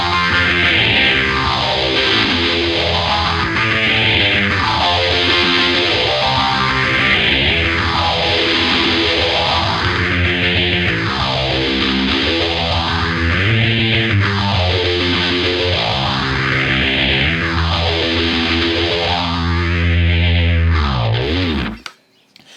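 A distorted electric guitar plays sustained chords through an MXR Phase 90 phaser, sweeping up and down in slow, regular waves, loud and continuous until it cuts off.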